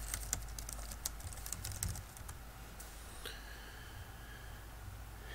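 A short run of quiet keystrokes clicks on a computer keyboard while a search is typed into the Chrome Web Store, then the typing stops, leaving a low steady room hiss.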